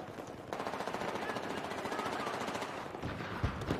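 Rapid, steady automatic rifle fire in Battlefield 4 rattles on for several seconds, loud and close, ending in a few heavier shots.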